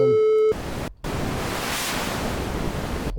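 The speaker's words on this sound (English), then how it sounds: "lots of noisy type distortion there." A harsh tone from Tranzistow synthesizer filter feedback cuts off into a dense roaring wash of noisy distortion, with a short dropout before the hiss surges back steadily.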